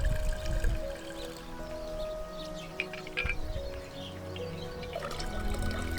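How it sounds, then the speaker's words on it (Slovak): Fermented nettle fertilizer water poured from a watering can onto tomato plants in a garden, a soft steady trickle and splash with faint birds in the background and no talk. "Takto polievam paradajky"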